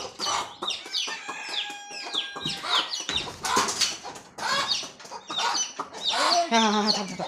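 Several hens cluck and squawk busily nearby, their overlapping calls rising and falling in quick irregular bursts.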